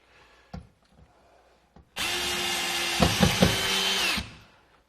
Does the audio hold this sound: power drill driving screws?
yes